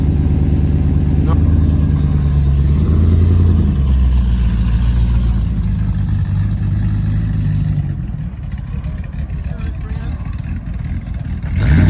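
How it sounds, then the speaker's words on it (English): A classic car engine revs with a deep, muscle-car-like rumble, loud and close, rising and settling over several seconds as it pulls away at a classic car show. "Almost sounds like a muscle car, doesn't it?"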